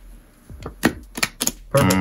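A deck of playing cards shuffled up close during a close-up magic performance, a quick run of crisp flutters and riffs before a louder burst at the end.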